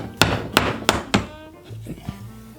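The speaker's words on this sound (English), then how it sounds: "New hole here with a Phillips screwdriver or a punch." A punch or Phillips screwdriver is hammered to make a new hole in a wall: four sharp, evenly spaced thunks up close, then a few softer knocks and taps.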